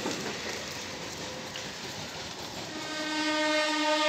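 A train at Sheoraphuli station, heading for Tarakeswar, rumbling past with steady rail noise before a long sustained horn blast rises and holds toward the end.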